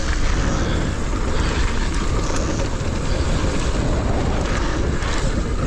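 Loud, constant wind buffeting the microphone during a mountain bike ride on trails, a dense roar and rumble that covers the whole stretch without a break.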